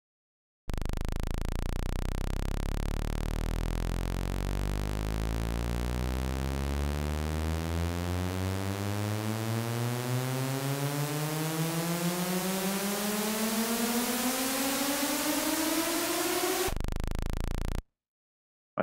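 Synthesized white noise from a Massive software synthesizer plays for about seventeen seconds, a steady hiss laced with pitched tones that sweep upward, ending abruptly with no voices.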